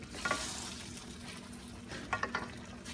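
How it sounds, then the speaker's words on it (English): Pork belly with okra and mushroom stems sizzles steadily in a pan, a spatula scraping and stirring in a couple of short bursts over the continuous frying hiss. "Let's give it a good stir."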